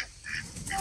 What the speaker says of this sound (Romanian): Deci trei, aici a rămas doi rățoi